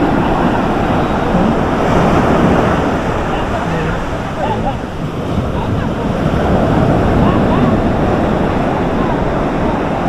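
Ocean waves wash continuously onto the shore at a beach in Dingalan, Aurora, a loud, rolling surf roar mixed with gusty wind buffeting the microphone.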